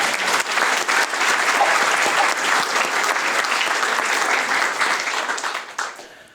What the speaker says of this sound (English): Can we have a round of applause for David's mum?